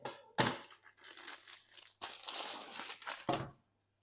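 Plastic food packaging, holding chicken for a creamy chicken and mushroom tagliatelle, is cut open in a kitchen: sharp crinkling and tearing bursts come close and fairly loud, with short pauses between them.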